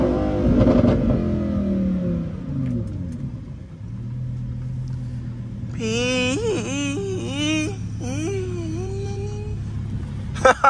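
Lamborghini Huracán exhaust burbling and crackling at idle, a low steady drone under a stretch of wavering high pitched tones and revs, fairly loud and close with no talk.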